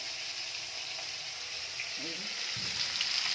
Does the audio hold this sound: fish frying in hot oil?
yes